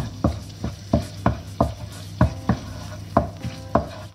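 A bay leaf and cardamom pods sauté in two tablespoons of butter, with a low sizzle under a rhythmic series of about ten close spoon knocks and scrapes against the pan.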